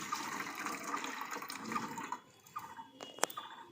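Whey water drained from fresh chhana cheese curds in a home kitchen, a soft continuous trickle and splash that thins out, followed by a few sharp drips and clinks near the end.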